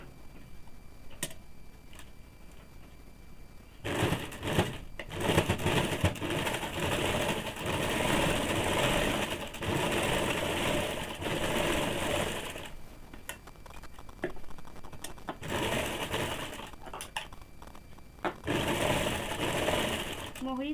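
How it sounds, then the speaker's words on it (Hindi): A sewing machine stitches the sleeve of a woolen baby frock in several loud running bursts separated by brief pauses, with faint talk in the quieter gaps. "मैं ये सिल के दिखाती हूँ।"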